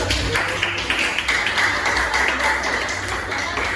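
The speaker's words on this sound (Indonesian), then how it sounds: "Kita berikan aplaus yang meriah dulu" Audience applause at a school project event, a steady wash of clapping hands held at even strength for a few seconds, with no clear speech over it.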